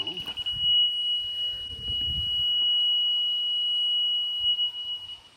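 A steady, unbroken high electronic tone from a level sounds for several seconds, with soft rustling and handling noise underneath.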